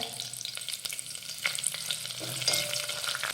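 Bay leaves and finely chopped green chillies hit hot oil with sautéed ginger for a Maharashtrian spiced rice, crackling and sizzling up close with scattered sharp pops and light stirring scrapes, no speech.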